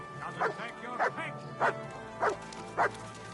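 A dog in the video game Kingdom Come: Deliverance 2 gives five evenly spaced, moderately loud barks over a low steady background.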